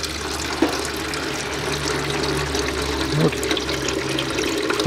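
Automatic transmission oil trickles steadily from a 2008 Audi Q7 3.0 diesel with an Aisin 09D gearbox beneath a low engine hum, with a couple of faint knocks and a voice speaking briefly.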